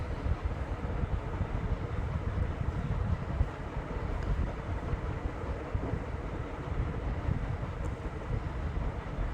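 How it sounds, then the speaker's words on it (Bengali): A passenger-laden ferry boat pulls away from Nabadwip ghat on the Ganges, producing a steady low engine drone mixed with buffeting wind noise and no talking. "আস্তে আস্তে লোক বোঝাই হওয়াতে নৌকা ছেড়ে দিল নবদ্বীপ ঘাট থেকে।"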